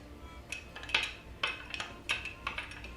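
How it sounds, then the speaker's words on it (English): A rum cocktail being stirred in a glass, several light clinks and taps of a swizzle stick against the glass in an irregular rhythm, close and fairly quiet. "so let's go ahead and mix this"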